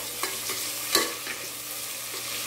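Onions and tomatoes sizzle and fry in a pan for mutton kudal kulambu, with a spoon scraping and stirring in a few distinct strokes over the steady frying hiss.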